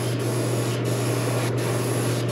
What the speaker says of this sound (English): All we'll do is just spray this straight over the back.